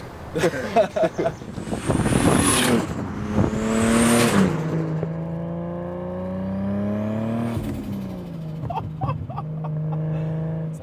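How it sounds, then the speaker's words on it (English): A turbocharged car engine revs hard, letting out a sharp turbo spool whistle and hiss, then settles into a steady, rising drone as it pulls away, loud and close, with bursts of other engine noise near the end. "I love that hissing, like that turbo spool."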